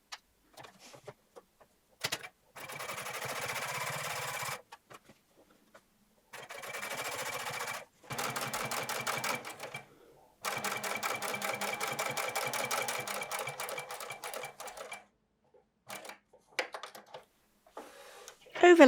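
Sewing machine stitching along the top of a jeans waistband in several bursts of rapid, even mechanical whirring separated by quiet pauses with small clicks and handling sounds.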